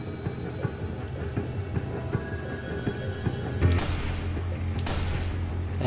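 Assault rifle gunfire in Watch Dogs: a series of sharp shots, fired singly and in quick bursts over a low hum, with a couple of heavier, louder blasts toward the end.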